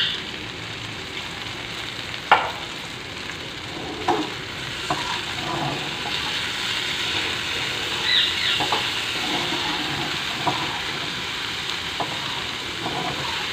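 Okra (bhindi) spiced with crushed red chilli frying on a tawa griddle, a steady close sizzle with occasional sharp scrapes and taps of stirring.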